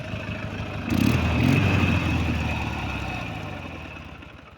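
Restored K-750 motorcycle engine idling nearby with a steady low rumble, briefly rising in a short rev before settling back and slowly fading.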